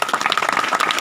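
Church congregation clapping in a brisk, steady rhythm during a lively prayer service, a short burst of many hands close and fairly loud.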